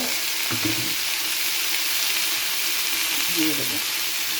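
Boal fish curry sizzles in the oil left over from frying the fish, a steady close hiss with a couple of soft clinks and low bumps partway through.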